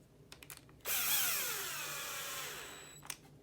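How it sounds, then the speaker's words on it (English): A power drill drives a 3x12 screw into a Team Associated B74 RC car chassis, a few faint clicks, then a close whirring burst of about two seconds that winds down, followed by light handling taps. "If you are using a drill, recommend setting a clutch or just be light on the trigger."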